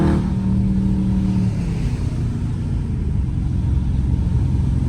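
A loud Dodge Charger Scat Pack cruising in third gear on a rainy day produces a deep, steady engine rumble from inside the car, with a brief rising hum at the start that then settles into a constant low drone.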